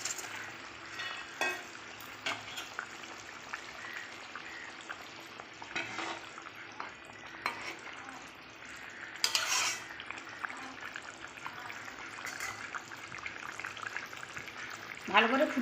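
Fish curry gravy for Bengali ayla fish jhal bubbling over a high gas flame as pre-fried ayla fish pieces go in, a steady sizzling hiss broken by spoon scrapes and pot clinks, with a louder clatter near the end.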